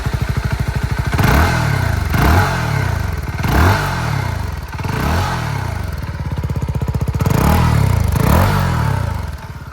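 A CF Moto NK250 motorcycle engine blips repeatedly, each rev rising sharply then falling back over a steady idle, about seven loud close throttle pulses with a throaty exhaust note and no talk.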